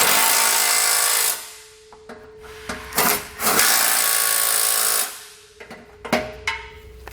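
Power tool tightening bolts on a 2020 Jeep Cherokee bumper beam during a base plate install: two loud whirring bursts, each cut off abruptly, separated by clanks and handling knocks, up close.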